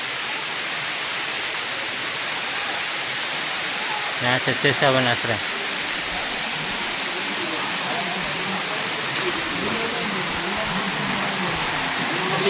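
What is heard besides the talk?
rain falling at Girnar hills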